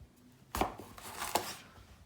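A knife cuts the stem off a jalapeno pepper on a cutting board, making two crisp close chops about a second apart in a quiet room.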